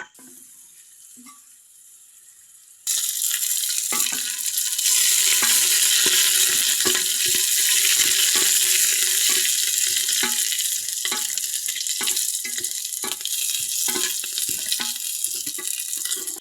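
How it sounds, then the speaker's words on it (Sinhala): Oil starts sizzling loudly after a quiet moment and keeps up a dense, steady frying hiss, broken by occasional stirring scrapes. "මේ ටික හොඳින් තෙලේ කර වෙනකම් බැද ගන්න"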